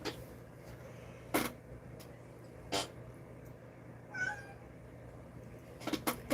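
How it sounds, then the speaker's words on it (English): A pet cat meows indoors with a few short, separate calls spread across several seconds, close and moderately loud over a quiet room. "My little kitty Bubba. My little kitty boy."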